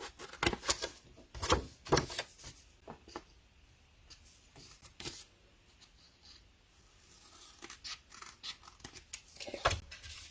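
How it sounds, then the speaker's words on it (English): Several crisp snips of scissors cutting paper, close up, arriving in uneven bursts with quiet pauses between, with no talking. "Let's get scissors,"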